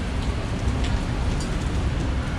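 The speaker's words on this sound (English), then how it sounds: "It's kind of a rainy day" Steady rain falls on a street in Macau, a dense, even wash of hiss and patter that stays close and loud throughout, with a low rumble underneath and no voices.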